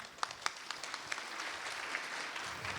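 Applause from an audience at a talk, a steady wash of clapping with a few sharper claps standing out near the start, continuing throughout.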